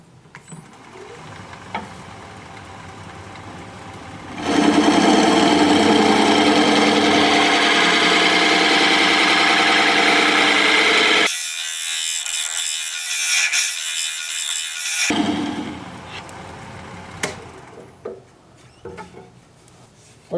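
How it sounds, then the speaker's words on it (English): A negative rake scraper works a wood-turning piece on a lathe, a steady loud scraping buzz over the motor's hum that cuts out abruptly, leaving only a harsh rasp for a few seconds before a quieter whir returns. "We'll scrape with my negative rake scraper."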